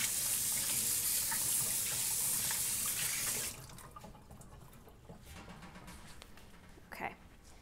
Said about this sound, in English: I suggest washing your hands. That's what I'll do right away.